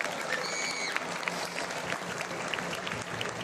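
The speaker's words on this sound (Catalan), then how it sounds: "Un aplaudiment per Sebastià Roig!" Sustained crowd applause at a town festival proclamation for the Fires i Festes de la Santa Creu, steady dense clapping filling the whole stretch with a faint whistle-like tone near the start.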